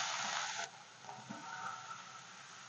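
Beetroot and carrot drop into hot oil with panch phoron and hing, and a loud hiss flares at first, then settles to a quieter steady sizzle with faint stirring scrapes.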